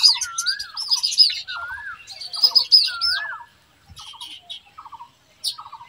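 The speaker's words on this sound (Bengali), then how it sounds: "এত সুন্দর মনোরম পরিবেশে পাখির ডাক শুনতে যে কি সুন্দর লাগছে আপনাদের বলে বোঝাতে পারবো না।" Baya weaver birds chatter at their nests in a village, a dense run of bright chirps, twittering and rising whistled calls, close and clear, thinning briefly before another burst near the end.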